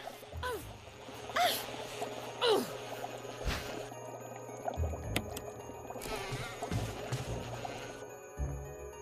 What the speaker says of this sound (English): I'm not fighting this bee, obviously.